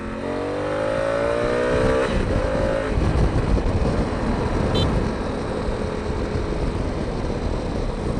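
A 2016 Honda Africa Twin motorcycle rolls on the throttle in second gear, its engine note rising steadily and loud over heavy wind rush, with no talking.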